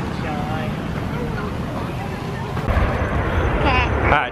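A monster truck engine roars at a Monster Jam event, a loud, steady broadband rumble that swells louder in the last two seconds, with people's voices faintly audible nearby.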